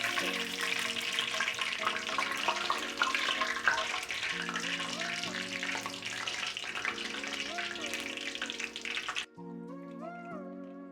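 Egg rolls (Indonesian loempia filled with chicken and vegetables) frying in hot oil at 360 degrees, a steady dense sizzle and crackle running continuously with music playing over it, ending abruptly near the end.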